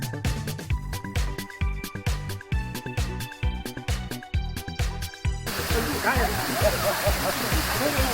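A fountain splashes at a park in Jinhae's Tapsan owl village. Rhythmic plucked music plays first, then gives way to a loud, continuous wash of falling, splashing water that fills the rest.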